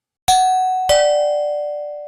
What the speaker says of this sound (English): And then your doorbell rings.